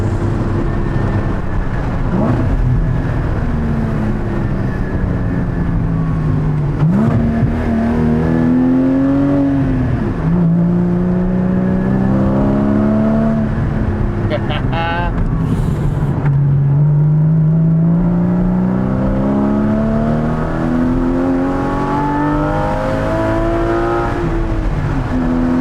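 Engine of a 2016 Porsche Cayman GT4 heard from inside while driving with the windows down, loud and continuous, rising and falling through several revving pulls and gear changes across the clip.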